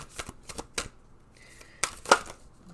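Tarot cards being shuffled by hand, a series of quick papery riffles and snaps in short bursts, close and fairly quiet with no talking.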